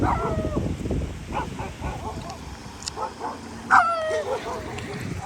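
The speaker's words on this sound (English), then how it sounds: "They're friendly barkers." Small dogs yap and bark in short, high bursts under and between people talking, with a sharper yelp near the middle.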